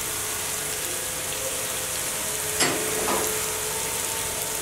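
Vegetables for egg vegetable fried rice being stirred in a pan over a steady, hissing sizzle, with one or two faint scraping strokes partway through.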